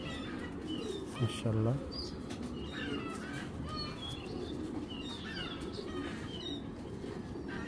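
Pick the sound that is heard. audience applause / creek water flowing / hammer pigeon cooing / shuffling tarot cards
hammer pigeon cooing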